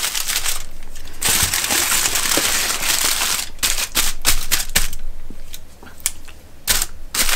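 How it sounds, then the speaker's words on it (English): Aluminium foil crinkles and crackles close up as cooked ribeye steaks are wrapped for resting, a dense, loud rustle broken by sharper crumpling bursts. "we want to wrap them. Wrap them up in some foil."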